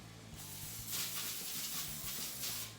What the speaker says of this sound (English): I'm going to go ahead and just spray this pan.